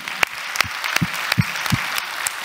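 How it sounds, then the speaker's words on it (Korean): Congregation applause during a Sunday church service, after a call to give glory to God. A steady wash of clapping, with a few louder low thumps standing out. "하나님께 영광에 큰 박수합시다."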